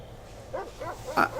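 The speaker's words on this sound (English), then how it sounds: "I caught sight of a lean dog running down 7th Avenue with a piece of dark brown meat in his jaws and a pack of starving mongrels at his heels" A dog-bark sound effect from a stage radio-broadcast production of War of the Worlds: two or three short, yelping barks over a low background hum, with no talking.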